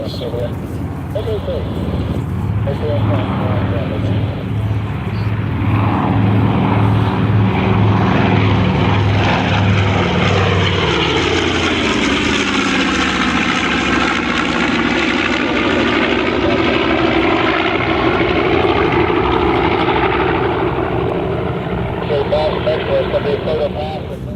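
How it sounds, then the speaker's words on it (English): A B-25 bomber passes overhead in flight at an airshow, its piston engines and propellers droning loud and continuous, swelling and shifting in pitch as it goes by, while an announcer speaks over it. "B-25's maximum speed of around 275 miles per hour. That's flat out."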